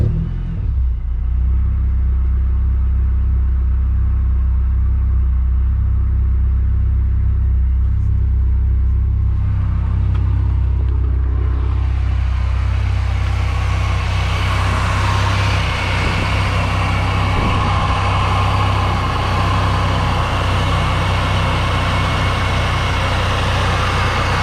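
A supercharged low-mileage Honda S2000 engine runs with a deep, steady rumble near the car, then a rising broadband hiss builds partway through as the ball valve dumps, continuing loudly to the end.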